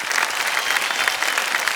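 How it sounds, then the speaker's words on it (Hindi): A studio audience at a televised quiz show bursts into dense, loud applause, many hands clapping steadily throughout a short stretch. "तालियां बज जाएं इनके लिए।"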